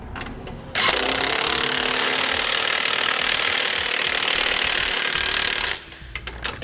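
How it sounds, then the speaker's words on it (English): A power tool tightens nuts while SumoSprings Solo helper springs are installed on a 2007 Toyota Tacoma, giving one loud, steady burst of whirring lasting about five seconds, with quiet before and after. "We'll tighten everything on down now."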